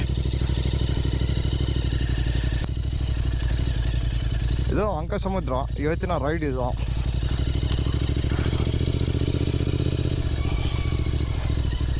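A Royal Enfield Interceptor 650 motorcycle rides along a muddy off-road stretch near Ankasamudra, its engine giving a steady continuous drone throughout, with a person speaking over it partway through.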